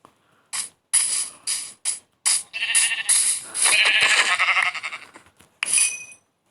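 Repeated sheep bleats from Minecraft, a run of short separate cries and then longer overlapping calls, fairly loud and close, with no talking.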